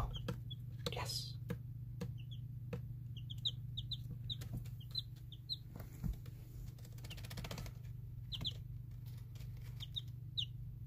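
Small chickens named Kagome cluck softly in their sleeping area, with faint short chirps scattered over a steady low hum while a person talks quietly nearby.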